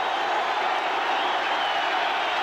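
Stadium crowd at a 1985 college football game between Iowa and Michigan, a steady dense roar filling the space evenly, with no distinct voices standing out.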